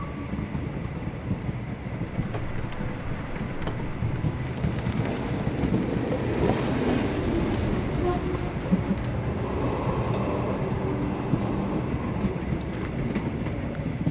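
A train from Sherlock Holmes The Awakened runs with a steady low rumble and faint wheel clatter, moderately quiet and continuous, with no voices.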